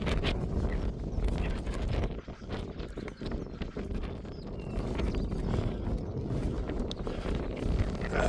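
Gusty, cold wind on the Appalachian Trail at Grayson Highlands buffets the microphone with low rumbling bursts and constant blustery noise, close and fairly rough throughout.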